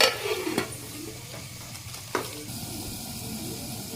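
Onions frying in oil with salt, a steady close sizzle and hiss with a couple of sharp scraping stirs of a utensil against the pan.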